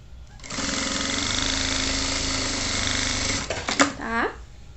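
A sewing machine stitches a pocket onto a fabric hanger organizer, a fast, steady mechanical whirring for a few seconds, then stopping with a couple of clicks and a short creak as the fabric is handled.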